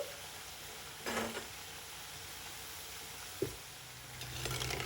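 Rice flour chips (pappu billallu) fry in oil in a pan with a steady, soft sizzle. Two brief clatters of stirring or turning cut through it, and the frying grows slightly brighter toward the end.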